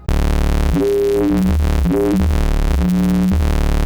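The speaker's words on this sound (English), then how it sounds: "You can hear the FM and the harmonics coming in there." FM synth patch on a UK garage production, oscillator A frequency-modulated by oscillator B and tuned a fifth apart, plays a short run of sustained notes rich in stacked harmonics, loud and upfront with no voices.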